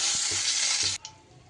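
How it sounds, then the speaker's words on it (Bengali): Bay leaf dropped into hot oil left from frying fish hisses in a loud, steady sizzle for about a second, then falls off sharply to a quiet crackle. "এইবার এই মাছ ভাজা তেলের ওপরে ফোড়নে দিয়ে দিচ্ছি তেজপাতা"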